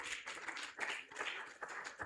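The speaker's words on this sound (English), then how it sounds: "Put your hands together if you are a Nigerian." An audience clapping hands at an event, a faint, uneven patter of applause from a crowd, continuing steadily for a couple of seconds.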